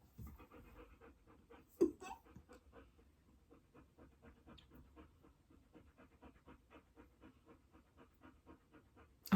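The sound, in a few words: dog panting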